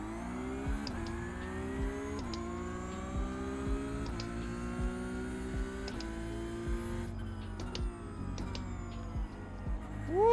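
A race car engine in a racing video game at the Hockenheim circuit drones steadily at moderate volume, its pitch rising and dropping with gear changes over about ten seconds, with no talking.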